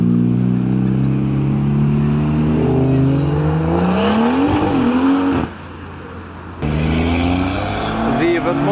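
Modified cars, a Subaru among them, accelerate loudly away from a car meet, with rising engine notes sweeping up close by, a short quieter gap, then another car pulling away under voices.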